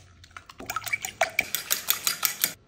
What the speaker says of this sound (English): Next, I'll crack 3 whole eggs into a bowl and proceed to whisk until they're nice and beaten.